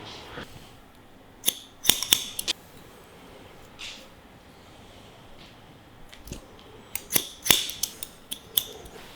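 Scissors snip through a man's long, loose curly hair in small quick clusters of crisp, close snips with quiet pauses between them, and nobody speaks.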